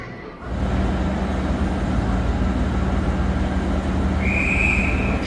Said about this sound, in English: we're about to depart on the train back to Melbourne